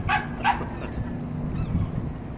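A dog near a boat at a shipwright's yard gives two quick, sharp barks close by, followed by a quieter stretch of low outdoor background noise.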